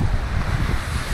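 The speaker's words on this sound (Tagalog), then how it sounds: "Grabe yung hangin oh." Strong monsoon wind rushes steadily on the coast at Paluan, Occidental Mindoro, a brief loud blustery roar buffeting the microphone with no voices.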